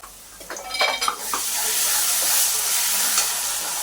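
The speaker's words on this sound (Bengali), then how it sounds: "আমি এর মধ্যে এখন আদা দিয়ে দিচ্ছি আদাটা খুব বেশি ভাজবো না" Ginger sizzles steadily in a pan with tomato while a spoon stirs and clinks against the metal, making a loud, continuous hiss near the mic for a banana-flower ghonto.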